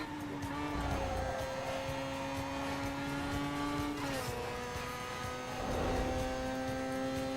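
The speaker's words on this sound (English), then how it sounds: "this has got that terrible Golf GTI sound" Golf GTI engine in the racing video game NFS Underground 2, a loud sustained engine drone that rises and shifts pitch through gear changes, with tire squeal and no talking.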